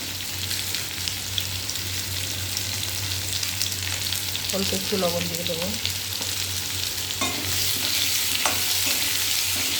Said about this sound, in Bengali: চলো আলুটা ভাজা হতে থাকুক